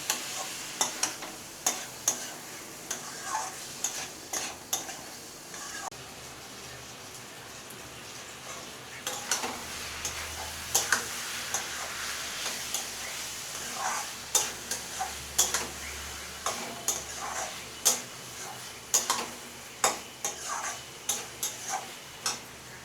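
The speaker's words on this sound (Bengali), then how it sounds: "এটাকে এবার নাড়ব, এটা খানিকক্ষণ কষতে হবে।" Ground ginger paste frying in a pan for a gondhoraj lemon chicken, with repeated sharp clicks and scrapes of a spoon stirring it over a soft, continuous sizzle.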